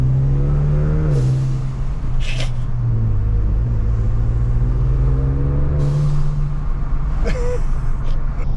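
A Raptor Ranger fitted with a Turbosmart blow-off valve revs its engine, a loud steady low rumble that rises and falls, with brief airy whooshes of the valve venting between revs.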